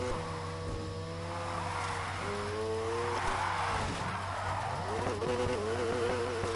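A game car drifting in Need for Speed Heat, its engine whining and shifting pitch as it revs and slides through turns with tire squeal, loud and continuous over a low background hum, no talking.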